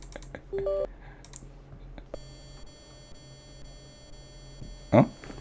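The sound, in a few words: repeated electronic beeping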